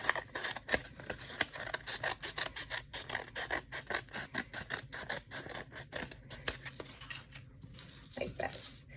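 Scissors cutting sheets of paper for a school craft drum: a steady run of close, crisp snips and rustles in an even rhythm, with no talking.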